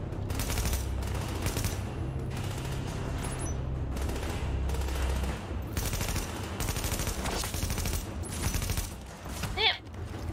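An automated turret in The Division firing rapid, sustained bursts of gunfire that continue through the whole stretch amid other combat noise, with occasional talk from players.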